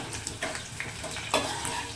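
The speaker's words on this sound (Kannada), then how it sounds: "ಈರುಳ್ಳಿ ಫ್ರೈ ಆಗಲಿ, ಸ್ವಲ್ಪ ಬ್ರೌನ್ ಕಲರ್ ಬರಲಿ ಅಷ್ಟೇ" Onions frying for an egg sambar sizzle steadily in a pan, with soft scraping stirs and occasional light clinks of a utensil against the pan, close by and with no talking.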